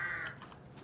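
A crow caws harshly in the game Resident Evil Village, a single raspy call fading over under a second against a low ambient game backdrop.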